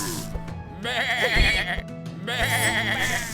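Sheep bleating in the fantasy card game Across the Obelisk, several wavering bleats in a row over game sound effects.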